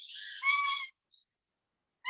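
A pet parrot at a parrot rescue gives a long, bright, whistle-like call, falls silent for about a second, then starts a second call. It is fairly close, with no talking.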